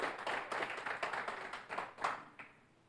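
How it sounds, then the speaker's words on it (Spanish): A church congregation applauding during a Sunday service, quiet and distant clapping from a group with a few sharper claps standing out, tapering off at the end. "denle un fuerte aplauso"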